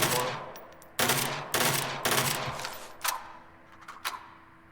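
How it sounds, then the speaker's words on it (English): Submachine gun fire in the video game Angels Fall First, several sharp bursts in quick succession, loud and close, then two or three lighter single shots tapering off. "typical SMG with pretty much spraying and accuracy falls back at range"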